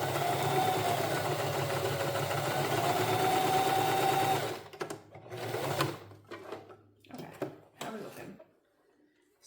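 A sewing machine runs steadily and fairly loud for about four and a half seconds, stitching a shirring test swatch with backstitching for a shirred dress, then stops and leaves short bursts of handling noise.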